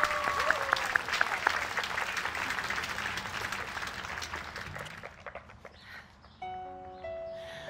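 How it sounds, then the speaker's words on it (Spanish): Loud, dense applause from a crowd fills most of the clip, then thins out and fades near the end as a few last claps trail off. "Un fuerte aplauso para la señora Carolina Méndez García."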